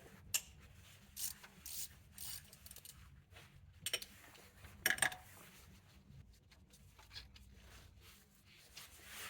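A triple square bit on an extension works loose the belt tensioner on a 2006-2015 supercharged Audi Q7, giving faint, scattered metallic ratchet clicks and scraping taps, with a sharper clink near the middle, in a quiet workshop with no talk.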